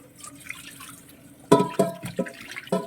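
Beef is washed under a running tap, with water splashing and sloshing in several close, uneven bursts after a quiet start.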